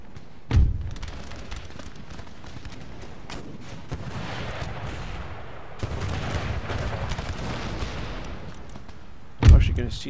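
Artillery fire in the Empire Total War game: two heavy booming cannon shots about nine seconds apart, with a steady crackle of distant gunfire and battle noise in between.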